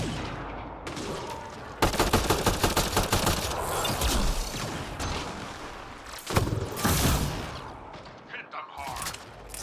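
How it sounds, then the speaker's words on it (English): Sustained gunfire from the sci-fi video game Mass Effect: Andromeda, with rapid bursts of shots and an occasional heavier blast, loud and continuous across the whole stretch. "who is shooting me, bro?"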